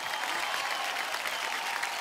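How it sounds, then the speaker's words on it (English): Steady applause from a crowd, dense clapping throughout the short clip. "Can we have a huge round of applause?"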